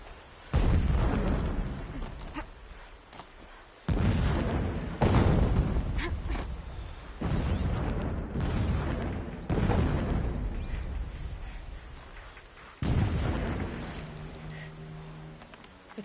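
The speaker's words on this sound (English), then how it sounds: "Explosions in the distance." Distant explosions in Horizon Zero Dawn Remastered, several deep rumbling booms arriving one after another at uneven intervals, each swelling and slowly fading.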